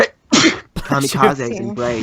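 A single sharp sneeze bursts out near the start, loud and close, followed by a voice speaking right after it.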